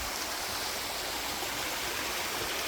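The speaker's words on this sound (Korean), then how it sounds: "몇 발자국만 걸어 내려오시면 오늘 이 계곡, 폭포, 계곡을 만나실 수가 있습니다" A mountain stream and waterfall in a valley near a country property rush with a loud, steady, broadband roar of flowing water, constant and close, with no voices heard.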